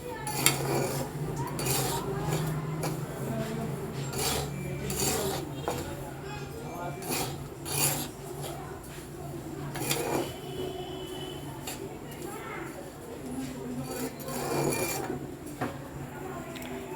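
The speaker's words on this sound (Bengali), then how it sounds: "শুকনো কড়াইতে সুজিটা কিছুক্ষণ মানে বেশ কিছুক্ষণ গ্যাসের ফ্লেমটাকে বাড়িয়ে বেশ কিছুক্ষণ এটাকে ভেজে নিতে হবে।" Semolina being dry-roasted in a dry pan over a raised gas flame, stirred with repeated metal scraping and clinking against the pan, steady and close throughout with faint background sound.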